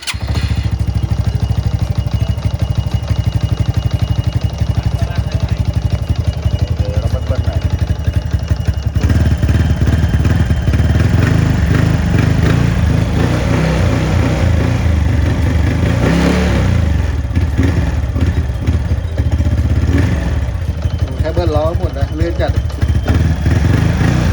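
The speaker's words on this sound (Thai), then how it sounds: "เดี๋ยวสตาร์ทให้ดูครับ อันนี้สตาร์ทมือครับ" Honda Wave 125i motorcycle with a converted S4 lighting kit, kick-started and then running loud and close, its engine clattering at idle and rising into revs with a brief change partway through; someone talks over it.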